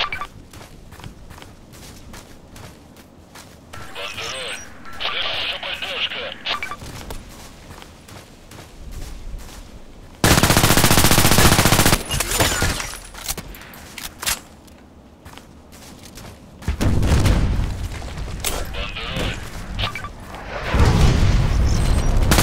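Sniper rifle fire in the shooter game Contract Wars: several loud, booming shots that land as separate heavy blasts with gaps between them, over quieter footsteps and small clicks.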